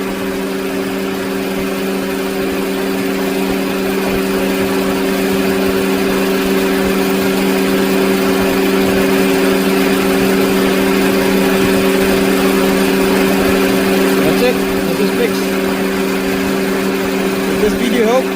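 An air conditioner fan spins steadily after repair, a continuous mechanical hum with strong tonal bands that holds at a constant, fairly loud level throughout, with faint background noise.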